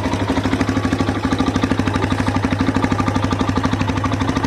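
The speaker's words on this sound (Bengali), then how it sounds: "এবার শোনো গাইস, এক্সজস্টের সাউন্ড" A Kawasaki Boxer motorcycle idles close up, its exhaust giving a rapid, even thumping pulse that stays loud and steady throughout.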